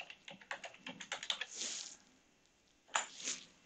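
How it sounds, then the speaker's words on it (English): Quick run of computer keyboard keystrokes entering an IP address, a dozen or so light clicks close by, followed by a couple of firmer key presses after a brief pause. "we'll just type in that IP address."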